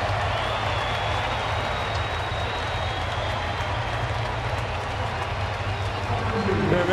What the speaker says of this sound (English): And Jed Jerko will score, and listen to the crowd.